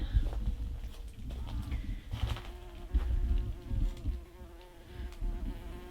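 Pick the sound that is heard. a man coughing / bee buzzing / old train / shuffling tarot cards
bee buzzing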